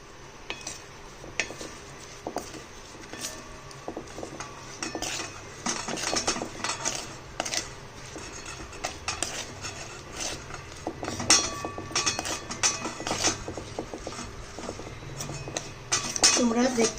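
Ground spices, salt, garlic and green chilli being mixed for a garlic–green chilli pickle, with steady clinks and scrapes of utensils against a bowl throughout, under a voice talking.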